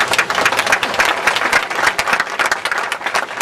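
An audience at a surfer memorial dedication applauds the memorial committee members, a dense, steady wash of many hands clapping close by that runs without a break.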